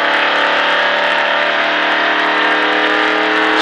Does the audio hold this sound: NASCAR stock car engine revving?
yes